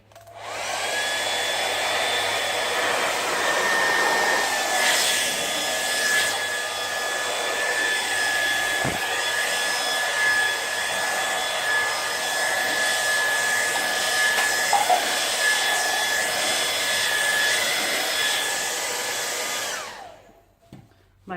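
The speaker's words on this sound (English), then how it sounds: "And get the hairdryer out." A hair dryer blows steadily at close range, a constant loud whirring rush that runs unbroken for about twenty seconds before cutting off.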